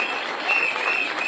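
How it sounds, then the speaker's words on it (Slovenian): Applause from a crowd at a patients' protest in a city square in Ljubljana, a dense steady clapping that lasts the whole short moment, fairly loud and near, with a thin high tone running through it. "Še en aplavz za gospo, ki je prišla z nami tukaj."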